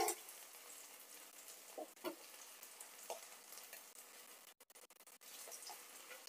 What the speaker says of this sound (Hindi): मीडियम फ्लेम में हम कोफ्ते को फ्राई करेंगे